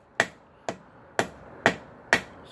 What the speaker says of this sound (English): So I tapped it lightly with the hammer, and I broke some of the scale loose.